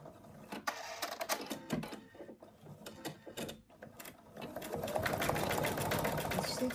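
An embroidery machine stitches the outline of a final thread color: a quiet, rapid mechanical clatter of needle and gears, running steadily and growing denser toward the end.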